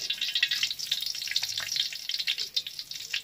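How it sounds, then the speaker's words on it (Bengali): Whole garam masala spices fry in hot oil, giving a steady close crackling sizzle with rapid irregular pops throughout. "এবার তেলের মধ্যে গোটা গরম মশলা ফোড়ন দিয়ে দিচ্ছি"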